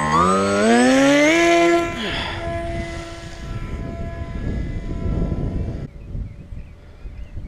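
A radio-controlled model airplane flies overhead with a loud, high propeller whine that rises in pitch, then fades as it passes, leaving a steady windy engine drone in the distance.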